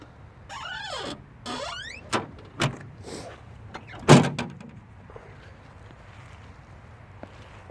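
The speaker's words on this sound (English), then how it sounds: "This power window doesn't work." A faulty power window on a 1988 Jaguar XJS V12 makes two short whirring motor strains, followed by several sharp clunks and thumps of door hardware, close by in a quiet setting.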